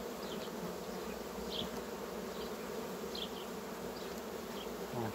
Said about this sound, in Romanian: colonie frumoasă de albine